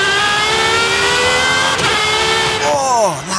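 A sports car engine in Forza Horizon 5 revs hard and climbs in pitch, then drops sharply as gears shift, loud and close.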